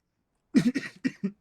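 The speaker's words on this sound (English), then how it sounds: "I was sick a couple weeks ago, so I'll have a cough occasionally." A man recovering from a recent illness coughs in a quick run of four or five short, close, fairly quiet bursts after a moment of silence.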